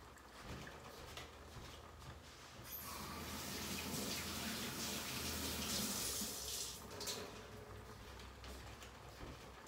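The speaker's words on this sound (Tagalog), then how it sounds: "Hugasan ko lang kamay ko." Running tap water splashes steadily into a sink while hands are washed in a home kitchen, a continuous broadband wash that swells louder midway and then eases, with no talking.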